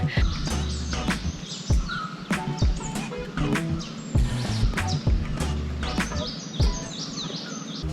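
Birds chirp and call busily in the Sri Lankan wilderness, many sharp tweets and trills overlapping at close to mid distance over a steady low background.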